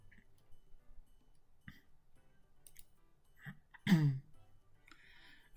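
A man clears his throat once with a short, rough guttural rasp, preceded by faint clicks and small mouth noises in a quiet room.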